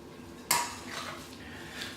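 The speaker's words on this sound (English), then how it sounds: "Give it a good stir, good few, well, say a couple of minutes, just giving it a good even mix." Turkey mince and egg mixture stirred in a bowl for burgers, a sharp utensil clink against the bowl at the start followed by soft, steady scraping and mixing sounds, close and fairly quiet.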